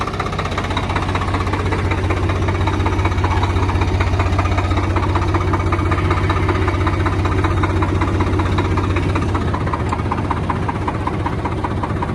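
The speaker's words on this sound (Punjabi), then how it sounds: "ਆ ਟਰੈਕਟਰ ਮੋੜ ਕੇ" A tractor engine runs steadily nearby during a potato harvest in wet soil, a continuous low rumbling chug that stays even throughout.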